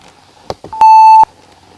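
A single electronic timer beep sounds to start a lesson: one steady, clear tone about half a second long, preceded by a couple of small soft clicks.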